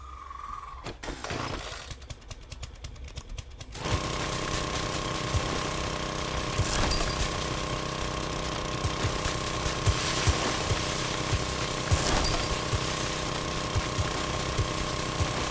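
Auger drilling in 7 Days To Die: after a few seconds of quieter noise, a steady, loud mechanical motor drone with a rough, hammering grind sets in and keeps running without pause.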